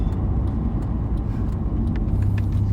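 A Honda Civic FD1 is driven and accelerates, its engine a steady low rumble heard from inside with road noise, rising slightly toward the end.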